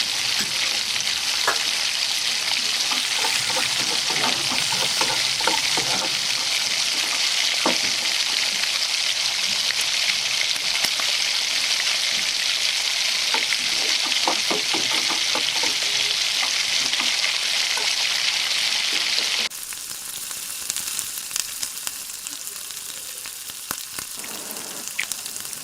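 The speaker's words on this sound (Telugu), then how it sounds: "ముందుగా కట్ చేసి పెట్టుకున్న ఉల్లిపాయ, పచ్చిమిరపకాయలు వేసేసుకుందాం." Chopped onions and green chillies fry in hot oil for an ivy gourd and moong dal dish, giving a loud, steady hiss with scattered crackles and pops. The sizzle drops abruptly near the end and continues more quietly.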